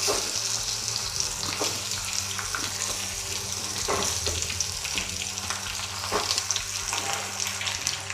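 Arbi leaf pakoras fry in a spiced tempering with loud, close, crackling sizzles, while scattered clinks and scrapes of the utensil pop up throughout.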